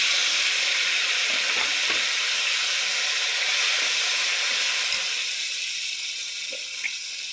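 Ginger frying in oil in a pan for a cauliflower and fish dish, a steady, even sizzle close by with faint stirring clicks, no voices.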